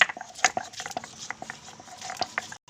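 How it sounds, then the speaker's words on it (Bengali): Chilli and poppy seeds ground by hand on a flat stone slab in a kitchen with a wood-fired stove: close, continuous gritty scraping with an irregular rubbing rhythm and small sharp clicks. "এখন আমি শিলপাটাতে লঙ্কা আর পোস্তটা বেটে নেব।"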